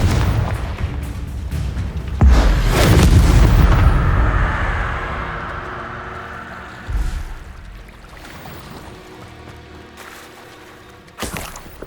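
A Confringo blasting spell detonating in the Hogwarts Legacy video game, a heavy booming blast that swells and rumbles for a couple of seconds, then fades into softer follow-up thuds and a late sharp impact.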